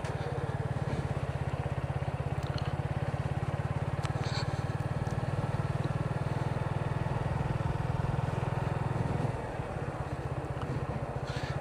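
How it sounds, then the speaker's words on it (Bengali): A Suzuki Gixxer FI ABS motorcycle rides along a village road, its engine humming at a steady low pitch with a faint rattle, easing off briefly near the end. "কেমন লাগছে নতুন মোটরসাইকেল জিক্সার FI ABS?"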